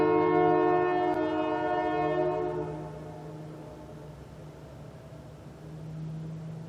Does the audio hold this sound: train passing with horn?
yes